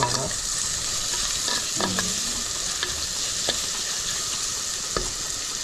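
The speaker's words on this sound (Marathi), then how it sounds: "कांदा असं लाईट लाईटच गरम होतं" Onion frying in a pan for jackfruit curry, a loud continuous sizzle with occasional spoon scrapes and a few light knocks, no talking.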